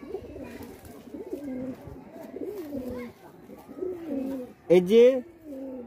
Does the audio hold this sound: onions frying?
no